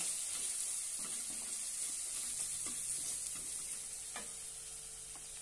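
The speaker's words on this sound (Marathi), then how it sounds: "छानपैकी परतून घेऊया।" Moong dal dish with onion, salt and black masala sautéing in a pan, a steady faint sizzle with occasional soft stirring scrapes throughout, no voices.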